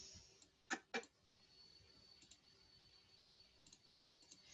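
A few quick, sharp computer mouse clicks close by in a quiet room while editing in Adobe Premiere, two louder ones early and softer ones later.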